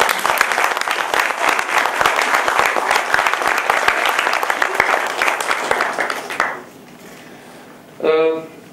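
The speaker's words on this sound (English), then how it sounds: "Really have to have a absolutely loud round of applause for all the people who are standing here." Loud applause from a crowd at a GenNext business session fills most of the stretch, a dense, continuous roar of clapping that cuts off quickly, followed by a short quiet gap and then a voice speaking.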